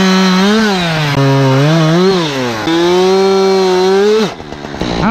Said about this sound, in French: Ah, t'as vu, où ma tronçonneuse coupe énormément bien.